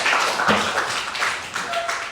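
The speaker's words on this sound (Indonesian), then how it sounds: "Tepuk tangan dulu untuk Adinda" Classroom applause for a student during a fish-farming lesson, a short burst of scattered clapping with a few louder claps standing out, a voice briefly audible.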